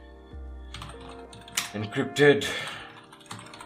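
Keys clatter on a computer keyboard while working in a Kali Linux terminal, a short burst of uneven clicks and taps heard alongside someone speaking.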